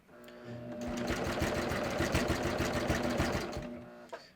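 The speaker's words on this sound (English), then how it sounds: "I'm going to continue to sew until the blade cuts off my tail" A sewing machine stitches in the round, with steady rapid needle thumps running close and loud for about three seconds until the blade trims the thread tail, followed by a brief click at the end.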